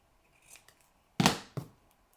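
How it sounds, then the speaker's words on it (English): Scissors cut paper for a squeeze top box: a few quiet snips, then one sharp, close crunching cut followed by a shorter second snip, with near silence around them. "Hopefully y'all can't see what a crooked cut I just did."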